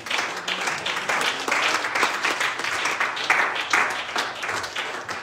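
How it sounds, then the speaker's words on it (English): A church congregation claps along during a sermon, a loud, busy wash of many hands with rhythmic pulses swelling and receding over several seconds, mostly without voices on top. "Will you clap your hands unto the Lord?"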